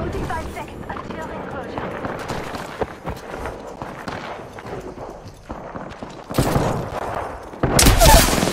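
Video game gunfire in a battle arena: rapid bursts of shots and scattered pops, moderately loud, with footsteps and shouted callouts between volleys, growing sharper and louder toward the end.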